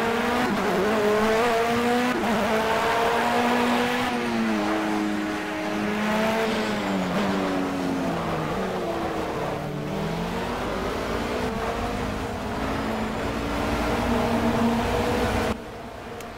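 Race car engine from the Project Cars racing game, a loud continuous note rising and falling through gear changes for about fifteen seconds, with shifting pitch sweeps before cutting off abruptly near the end.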